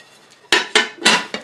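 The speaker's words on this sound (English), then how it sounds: "So I'm just going to take the plate," Ceramic plate lifted and set down in a home kitchen to cover proofing English muffin dough, four sharp clinks and knocks in quick succession, close and fairly loud, with no talk.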